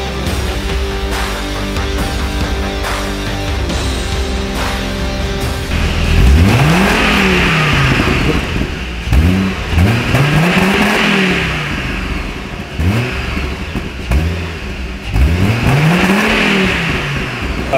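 A Hummer H3 with a tuned aftermarket exhaust revs hard in repeated loud bursts, each rising and falling in pitch, over a steady rumbling idle between throttle blips.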